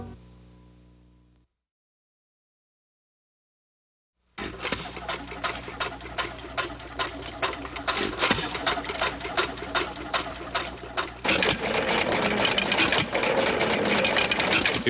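An old engine starts up after a brief fade and silence, then runs with a fast, even mechanical clatter of wheels, gears and cranks, close and steady, growing slightly busier toward the end.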